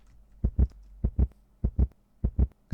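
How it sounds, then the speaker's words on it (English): Heartbeat sound effect from a Minecraft Decked Out map: loud, deep, close paired thumps repeating in a steady lub-dub rhythm, four beats alone without talk. "So that is the heartbeat sound effect working"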